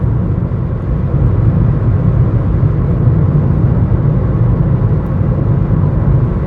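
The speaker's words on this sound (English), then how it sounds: "Loads of road noise, just like the Panda. My foot is flat to the floor in 5th gear." Inside a Ford Ka at full throttle in fifth gear, a constant loud low rumble of road and engine noise fills the cabin without letup.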